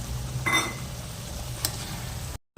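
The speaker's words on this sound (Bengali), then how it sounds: "মোটামুটি মশলাটা ভালো করে কষিয়ে নিল" Spice paste for a Bengali bhetki fish-bone curry sizzles and fries in a pan while being stirred, a steady crackling hiss with brief scraping strokes, close and alone before an abrupt cut.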